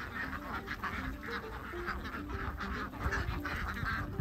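Ducks roaming a South African vineyard quack and honk in a busy, overlapping chorus, repeated calls coming steadily at moderate distance without speech.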